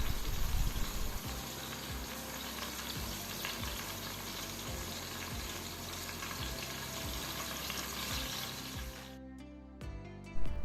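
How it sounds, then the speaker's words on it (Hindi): Two tablespoons of garlic fry in about a quarter cup of soya cooking oil in a pan, a steady, dense sizzle that runs without a break. A few faint clinks of stirring come near the end, and no one speaks. "ऑयल में फ्राई करेंगे।"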